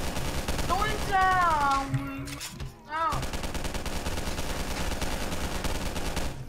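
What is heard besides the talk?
pistol gunfire in a video game boss fight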